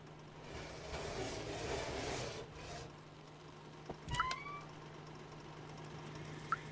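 A cat meows in the video game Stray: a couple of short rising-and-falling cries near the middle, then a tiny chirp, over a steady low game hum and a softer rushing background.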